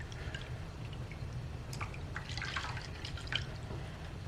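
A makeup brush is washed with soap and water, giving faint, soft dripping and squishing splashes over a steady low hum, close by, with no talking.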